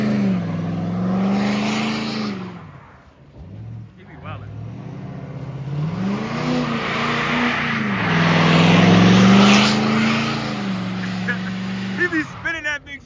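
A car engine revs and surges in rising and falling waves while spinning its tires in donuts during a street and parking-lot takeover, loud and close, with people talking over it.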